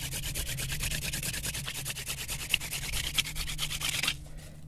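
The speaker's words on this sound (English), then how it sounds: "it's time to drill faster and create a hot ember" A wooden hand drill spindle spins fast between the palms to build a friction-fire ember, giving rapid, rhythmic rasping strokes that run loud and close for about four seconds, then stop.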